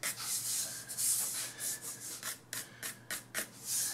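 A wooden board being sanded by hand, with repeated rough back-and-forth rasping strokes, close and fairly loud.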